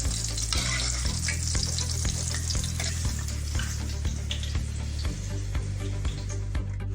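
Steady crackling and sizzling of prawns frying in hot oil until light golden, with occasional stirring clicks, close and continuous, no voices.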